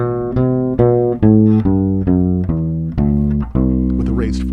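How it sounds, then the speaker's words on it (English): A C Lydian scale on an electric bass guitar, with its raised fourth, runs as a steady string of plucked, sustained low notes, close and prominent, with a faint squeak of fingers sliding on the strings near the end. "C Lydian sounds like this."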